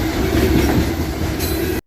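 A freight train led by CSX locomotive 911 rolls past on the railway, loud and close, with a steady rumble, rhythmic clickety-clack of wheels and faint wheel squeal, ending abruptly.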